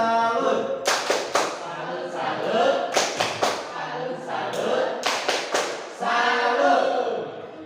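A group performs a rhythmic clap routine, sharp bursts of claps in patterned groups with pauses between, close and loud, with voices murmuring faintly underneath.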